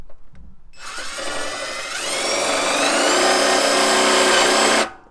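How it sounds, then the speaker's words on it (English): A power drill drives screws into an SLP cold air intake on an F-body car. It makes a loud, steady motor whine that starts after a brief quiet moment and climbs slightly in pitch. It runs for about four seconds and stops abruptly, with no talking. "Throw some screws in."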